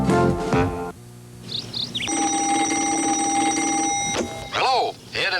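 A telephone rings with a steady, bright electronic tone lasting about two seconds in a television advertisement, with voices talking just before and after.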